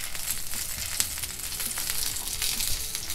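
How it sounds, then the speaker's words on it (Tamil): Chicken sheek kebab rolls frying in a pan, giving a continuous close sizzle with a few sharp crackles and spatters, with no voices. "இப்போ நம்ம அடுத்து சிக்கனை வந்து இந்த மாதிரி ரோல் பண்ணி வேக வச்சாச்சு."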